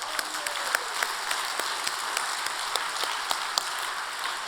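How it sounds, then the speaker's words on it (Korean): Congregational applause at a Korean religious gathering, a steady dense wash of many hands clapping with occasional sharper near claps standing out, moderately loud and sustained with no talk. "축하의 박수 올려드립시다"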